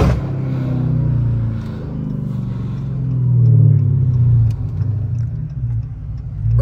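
A Dodge Hellcat with its air intake removed, heard from inside the cabin as a steady low engine rumble that swells with revving, loud and continuous with no talk.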